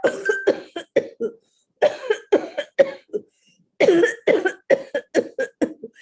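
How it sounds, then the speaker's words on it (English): A harsh coughing fit in close range: clusters of sharp, rasping coughs come in rapid bursts, separated by short silent pauses. "he had a sudden coughing fit"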